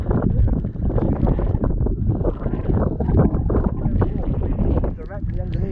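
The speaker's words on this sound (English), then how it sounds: "It's very windy." Strong wind roars and buffets the microphone outside a long-abandoned mine in the mountains, a dense, constant rumbling gust with mumbled voices underneath.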